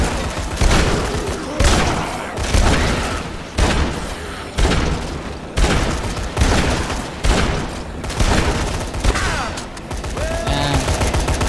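Video game gunfire in bursts, with repeated loud shots and volleys at a rapid, irregular rhythm that runs nearly continuously throughout.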